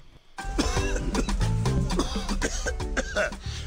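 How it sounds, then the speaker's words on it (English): A person coughs repeatedly in a quick, rough series of bursts, loud and close. Throat clearing and some laughter-like sounds are mixed in. "this cough is serious"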